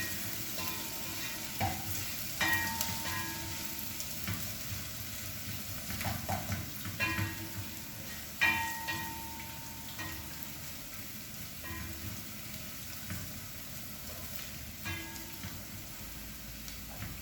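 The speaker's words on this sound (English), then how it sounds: "So we're just stirring for a few seconds to ensure that the garlic and ginger are also golden brown, and also avoid overcooking the red onion." Garlic ginger paste and red onion sizzle softly in a pan while a utensil stirs, scraping and tapping at irregular intervals over a constant low frying hiss.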